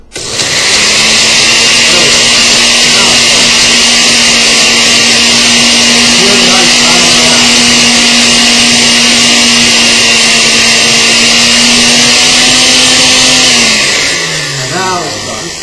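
A Hamilton Beach blender runs at full power crushing ice for a low-calorie milkshake, a loud sustained motor whine with grinding and rattling, then spinning down at the end.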